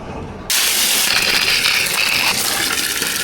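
Water sprays from a garden hose fitted with a small nozzle at a farm, starting abruptly as a steady, loud hiss that runs on unbroken to the end.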